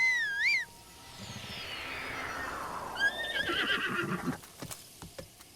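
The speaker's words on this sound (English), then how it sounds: "Why am I running? Just use my horse." A horse in Zelda: Breath of the Wild gives a loud, wavering whinny, then a long swooshing sweep and rapid clip-clopping hooves with a second neigh as it sets off through a canyon.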